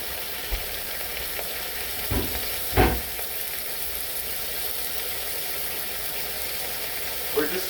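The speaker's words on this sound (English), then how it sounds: "We're just trying to sear those sides. We're not trying to cook them, so it won't have to be on there that long." A large piece of pot roast meat sears in a hot pan with a steady, close sizzle and a few clunks as it is moved, and there is no talk over it.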